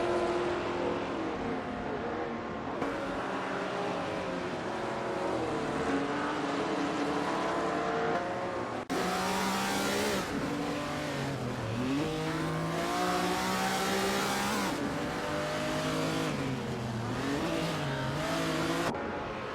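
AI-driven supercars racing at Weatherfield Speedway in a video game, a continuous roar of engines revving and accelerating with pitch sweeps as cars pass, steady and moderately loud with no talk.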